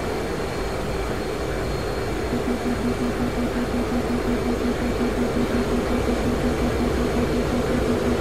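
Jet fighter engine roar from the DCS flight simulator during an F/A-18C versus Su-33 dogfight, a loud continuous rushing drone with a steady tonal hum, no talking.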